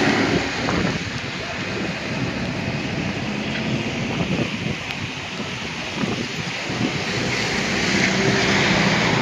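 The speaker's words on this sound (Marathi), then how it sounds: "आज म्हणजे लयच पाऊस होता." Heavy rain pouring down outdoors on a travelling herders' camp, a dense, continuous roar with a gusty, wind-like swell and no voices.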